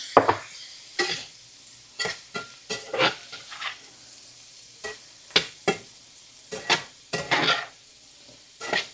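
Green beans frying in bacon grease in a pan, a faint sizzle beneath repeated sharp clinks and scrapes of a utensil stirring against the pan in an irregular rhythm, close up with no talking.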